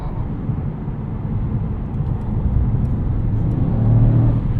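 A 2024 Mercedes-AMG GT 63 S E Performance hybrid cruising in comfort mode gives off a steady low engine and road drone that swells slightly toward the end, heard from inside the cabin with no talk.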